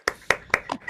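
Clapping heard over a video call after a seminar talk: four sharp, close hand claps in quick, slightly uneven succession, dry and compressed.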